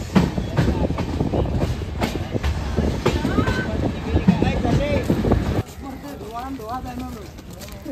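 A train at Thane railway station rumbles and clatters loudly nearby, the wheels clacking over the tracks, with people talking and then quieter station ambience near the end.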